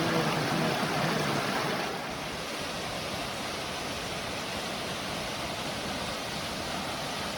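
A stream tumbling over falls, its white water crashing into a pool below, roars as a steady broadband wash that stays loud and close throughout, slightly louder in the opening seconds.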